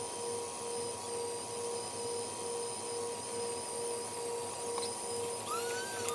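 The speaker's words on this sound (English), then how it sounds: "I'm gonna let it run for a little bit like that. Hopefully it won't burn that motor up" The motor of a tiny washing machine runs with a steady, quiet mechanical hum and whine, unchanging and close, with a faint click near the end and no talking.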